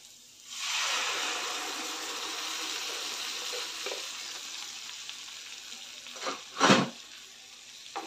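Cooked whole masoor lentils frying and being stirred in a pan for a dhaba-style dish, a steady close sizzle with a couple of louder scraping stirs near the end; no talking.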